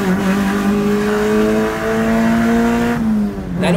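A Mitsubishi Lancer GSR with a MIVEC engine revs hard and climbs into its high cam range, a loud, close engine note rising steadily in pitch, then dipping briefly near the end before picking up again.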